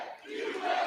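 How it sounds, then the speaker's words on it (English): A large crowd at a Donald Trump rally in Cedar Rapids, Iowa cheers and shouts in a continuous roar that swells toward the end, heard from amid the audience with no speech over it. "What a nice crowd."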